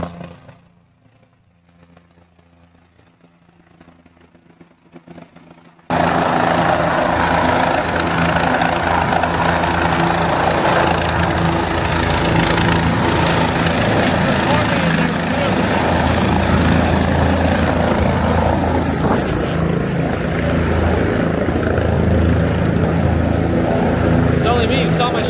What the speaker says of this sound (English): There's a helicopter coming in, actually.